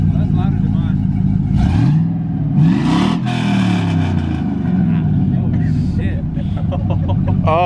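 A loud straight-piped truck engine revs hard, its pitch surging up and back down several times in a close, continuous roar, with voices talking over it.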